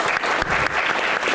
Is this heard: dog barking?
no